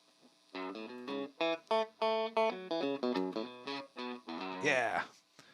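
Electric guitar played through an ADAU1701-based distortion pedal, a run of chords and notes flipping between clean tone and distorted crunch, ending in a bright, harsh strummed burst; fairly loud and close.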